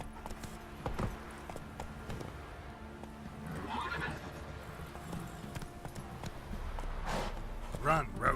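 Roach, a horse in The Witcher 3 game, neighs and whinnies loudly with clip-clop hoofbeats of galloping, while a voice speaks over the action and other game sounds.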